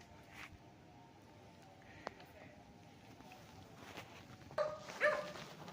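A dog barks somewhere on a rural farm lot beside a road, with a few faint barks and whimpers partly buried under outdoor background noise.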